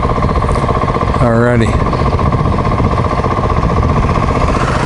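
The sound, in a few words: dirt bike engine as a rider approaches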